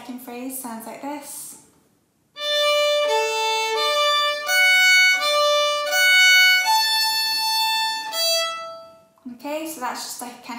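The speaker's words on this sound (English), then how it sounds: "And then the second phrase sounds like this" Solo fiddle playing the second phrase of the Manx tune Ta Cashen Ersooyl, a run of clear bowed notes for about seven seconds, close and bright, with a voice talking before and after.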